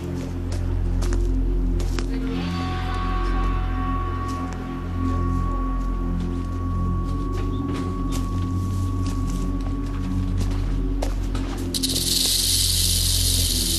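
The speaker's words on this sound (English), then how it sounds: "If the sound of the rattle fails to deter this intruder, the rattlesnake does what rattlesnakes do best." A rattlesnake's tail makes a continuous dry, buzzing rattle that hisses steadily against a rumbling background, with a brief brighter hiss near the end.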